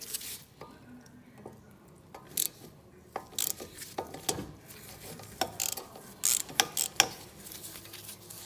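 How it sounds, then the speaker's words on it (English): Clicking from a ratchet working the 13 mm caliper bolts loose on a 2008-2020 Dodge Caravan comes in uneven close bursts, some quiet and some sharper, with no talk over it. "I guess they're loosening it."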